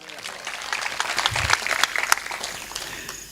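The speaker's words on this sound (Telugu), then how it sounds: "గట్టిగా చప్పట్లు కొట్టండి" A church audience at a pastor's sermon claps in a burst of crisp, scattered hand claps that builds and then thins out, with some voices mixed in.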